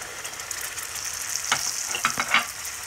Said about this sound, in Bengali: এবার আমি এর ভিতর দিচ্ছি 2 টেবিল চামচ আদা